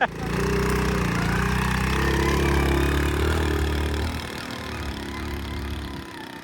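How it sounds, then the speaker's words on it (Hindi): A motorbike engine drones loudly and steadily up close as the bike climbs a steep, dangerous dirt track onto a flood embankment in a village, then eases off slightly after about four seconds. "ये रास्ता है जी जिधर से ऊपर चढ़ानी है बाइक"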